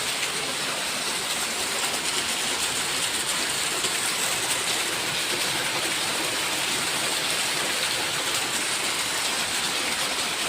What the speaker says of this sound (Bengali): বীভৎস জোরে বৃষ্টি নেমেছে, মানে ভীষণ জোরে ভীষণ জোরে।